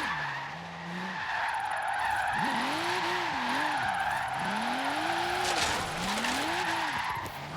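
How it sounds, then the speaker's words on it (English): Tires squeal in long, wavering arcs as a car drifts in Forza Horizon 3, the screech rising and falling in repeated swells over a loud, steady engine roar with no voices. "Gonna get this drift underway."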